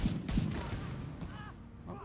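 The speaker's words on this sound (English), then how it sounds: "The gunshots are like echoing." Echoing gunfire in The Division 2 inside an enclosed planetarium space, several sharp shots in quick succession with reverberant tails, loud and up front.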